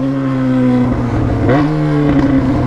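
A weak-engined Fiat Uno car runs loud and close, a steady rough idle that rises in pitch as the engine is revved, then settles at a higher hum.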